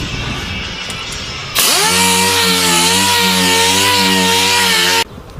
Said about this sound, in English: Let me start sanding this two doors with 320 with the DA